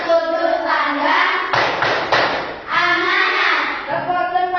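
A classroom group plays the Indonesian rhythmic clapping game tepuk unsur intrinsik, with patterned claps and thumps under chanting voices over a few seconds.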